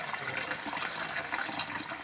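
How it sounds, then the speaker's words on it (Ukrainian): Hot water pours steadily into a container while trout roe is being prepared, a continuous close splashing gush with no talk over it. "Гарячу воду даємо."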